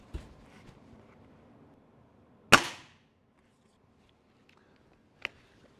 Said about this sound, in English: you can hear from the recoil, the noise, that this gun is putting out a lot more power than the other ones